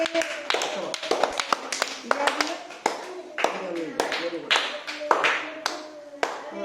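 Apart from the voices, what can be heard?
children clapping in a classroom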